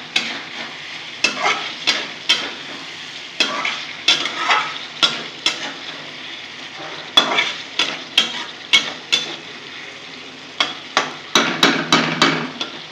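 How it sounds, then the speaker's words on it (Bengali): A spoon stirs alu potol posto, potatoes and pointed gourd in poppy-seed paste with mustard oil, in a frying pan, scraping and knocking against the pan in a steady run of sharp taps over a continuous sizzle, close and loud. "নাড়িয়ে নেব।"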